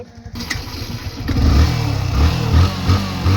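A motorcycle that had broken down starts and revs up, its engine note rising and holding loud and close with repeated throttle surges after a brief quiet start.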